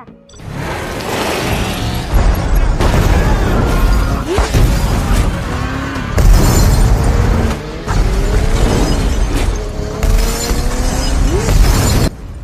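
A large explosion inside a building: loud crashing and shattering bursts with heavy booms, debris clattering and metallic grinding, several violent impacts in quick succession.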